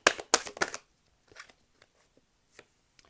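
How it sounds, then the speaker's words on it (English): A deck of tarot cards is shuffled in a few quick, crisp riffling bursts at the start, followed by faint scattered taps and card handling in near silence. "I shuffled it the wrong way."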